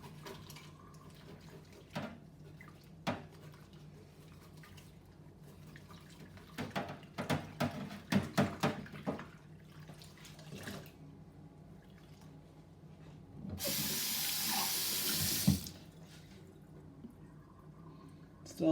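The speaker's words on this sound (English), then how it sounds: "We're just going to quickly scrub this one down again." Water runs and splashes into a sink while a teapot is scrubbed and rinsed, with scattered knocks and clinks of the pot, a busy burst of handling in the middle and a loud stretch of running tap water near the end.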